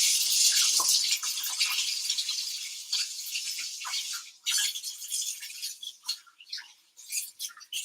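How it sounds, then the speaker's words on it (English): Hot water runs steadily from a kitchen tap as hands are washed during cooking, a bright continuous hiss that turns into choppier splashing as the hands move under the stream. "Put this here before I wash my hands."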